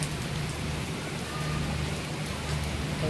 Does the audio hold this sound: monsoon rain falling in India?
yes